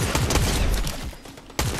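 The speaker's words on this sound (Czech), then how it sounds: "naproti nám střelba" Gunfire in a Fortnite match, a dense burst of rapid shots with brief lulls, fairly close and loud, with no talking.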